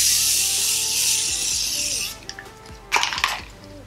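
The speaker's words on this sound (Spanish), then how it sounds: "voy a terminar mi maquillaje con mi setting spray de Morphe" Morphe makeup setting spray hisses out in a steady mist for about two seconds, followed by a few light clicks and handling noises from the bottle.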